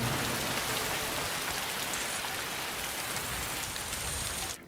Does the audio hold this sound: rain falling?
yes